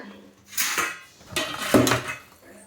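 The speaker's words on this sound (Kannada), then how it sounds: "ಇವಾಗ ಒಂದು ಪ್ಲೇಟ್ಗೆ ತಕ್ಕೋತಾ ಇದ್ದೀನಿ ಇದನ್ನು" Freshly fried kajjaya sweets are moved onto a plate, with two separate bursts of metallic clinking and scraping from utensils and dishware, close and fairly soft, with a quiet pause between them.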